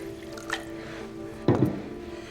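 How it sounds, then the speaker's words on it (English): Water pours and splashes briefly into a vessel during a nighttime ritual, a faint trickle early on and then a louder, short gush near the end, heard up close in a quiet room. "You fill this with water?"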